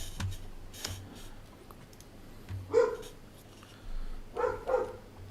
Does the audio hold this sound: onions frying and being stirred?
no